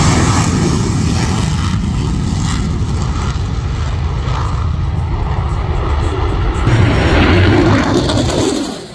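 Blue Angels jets of the US Navy flying over Pensacola, heard as a loud, steady broadband roar of aircraft that holds throughout and swells slightly near the end, with no talking.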